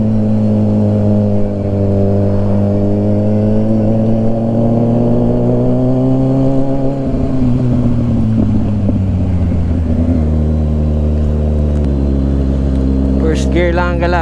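Kawasaki Ninja 1000SX engine humming steadily in first gear on a rainy long ride, loud and close with pitch rising and falling as the throttle changes, wind rush underneath.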